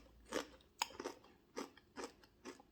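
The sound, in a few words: crunching while eating a crunchy snack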